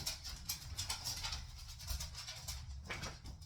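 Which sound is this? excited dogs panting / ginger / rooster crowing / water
excited dogs panting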